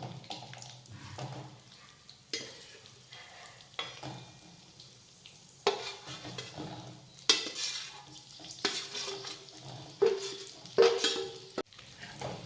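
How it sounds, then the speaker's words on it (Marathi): Masala-stuffed okra (bhindi) frying in oil in a pan, with intermittent bursts of sizzle and spatula scraping, occasional utensil clinks between quieter stretches, close by with no voices. "आता ही भेंडी परतून घेऊयात तेलावर"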